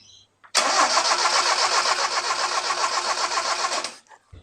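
A 1971 Toyota Celica TA22 barn-find engine cranks close and loud for about three and a half seconds, a steady rhythmic churning that starts abruptly and then cuts off.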